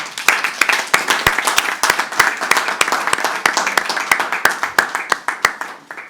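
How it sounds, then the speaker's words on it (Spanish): Audience applause in the Senate welcoming French left-wing politician Jean-Luc Mélenchon, rapid close-up hand clapping that stays steady throughout. "Les pido un aplauso muy fuerte."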